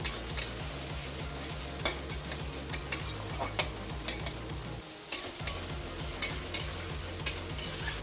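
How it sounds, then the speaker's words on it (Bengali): Onions sizzle in hot oil in a wok while being fried crisp for chicken biryani, a spatula scraping and clinking in a steady repeated stirring rhythm, close and clear. "তারপরে বেরেস্তা ভাজার জন্য পেঁয়াজগুলো দিয়ে দিলাম।"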